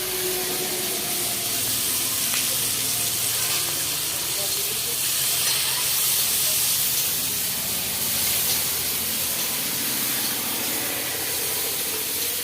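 Chopped garlic with green chilli sizzles in hot oil for a Bengali leafy-greens fry, a steady loud hiss and spatter that runs without a break from start to finish.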